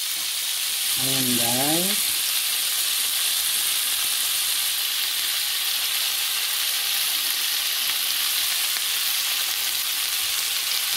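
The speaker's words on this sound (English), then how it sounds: "tinawin muna natin yung butter" Butter melting in a hot pan for butter shrimp gives a steady, bright sizzling hiss throughout, close and even, with a brief spoken phrase near the start.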